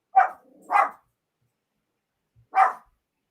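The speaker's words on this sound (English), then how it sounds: "That's the dog." A dog barks three times, two quick sharp barks followed after a pause by a single bark, fairly close and loud with near silence between them.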